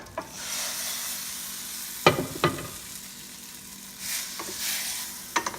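Japchae noodles stirred in a hot pan give a soft continuous sizzle, broken by a few sharp scraping clatters of the utensil against the pan at irregular moments.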